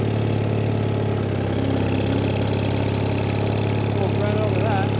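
A Case trencher engine runs at a steady, loud, unbroken drone that holds the same pitch from start to end.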